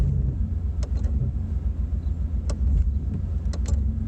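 A car engine fitted with Ez-EFI fuel injection revs while idling, a loud, close, lumpy rumble that rises and dips unevenly, with a few sharp clicks and no speech.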